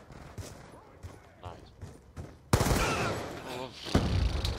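Gunfire in an online shooter game, opening with scattered quiet shots and then a sudden loud sustained burst of automatic fire, close and harsh, with a player talking over the action.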